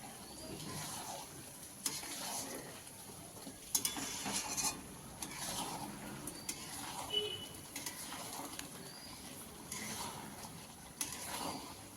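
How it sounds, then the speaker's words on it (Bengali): Spices sizzle and sauté in a hot pan with fried potatoes for chicken curry, with a spatula stirring and scraping intermittently against the metal, close and fairly quiet. "মশলা দিয়ে এবার কষাবো"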